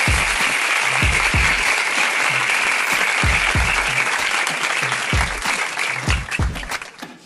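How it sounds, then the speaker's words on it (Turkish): Applause from a studio audience greeting a guest on a talk show, a dense steady clapping that carries on for several seconds and then thins out toward the end, with no talk over it. "Yine alkışlarla."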